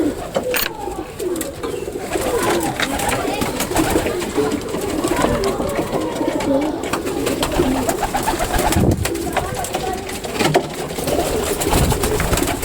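Pigeons, mostly egg-laying birds kept in a loft, coo in a steady, close chorus of soft throaty calls, with light wing flutters and scuffling throughout.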